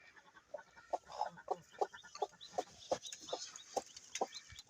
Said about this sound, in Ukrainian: У нас квочечка висиділа курчаток.